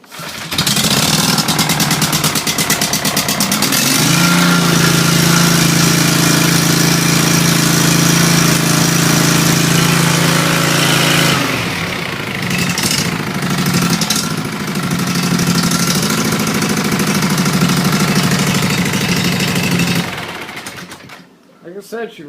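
Gas engine, fresh oil, filter and plugs, cranking and firing up, then running loudly with a steady rumbling idle and revving, close by for about twenty seconds before cutting off.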